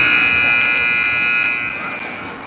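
A game-end buzzer sounds at an indoor ice hockey rink during an 8U youth game, one loud steady electronic tone held through the whole moment and fading slightly at the close.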